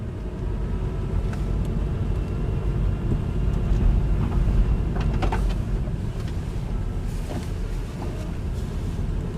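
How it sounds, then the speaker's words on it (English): Steady low rumble of a manual-transmission car engine and tires as the vehicle creeps forward after the clutch is released, heard from inside the cabin with occasional faint clicks. "Wait for the car to roll. Car's rolling."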